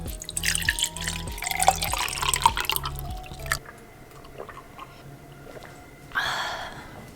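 Tap water runs briefly into a home water filter in a New York City apartment, a short close splashing burst near the end after quieter clinks and movement, with no talking.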